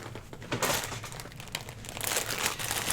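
Plastic packaging crinkles and crackles in close, irregular bursts while a length of fall-themed seam binding is pulled out for a vintage lace craft project.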